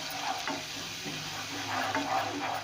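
Garlic and ginger fry with chillies, turmeric and salt in a pan for a mixed vegetable dish, a low continuous sizzle with soft scraping as the spices are stirred through.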